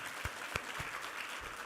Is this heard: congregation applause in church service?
yes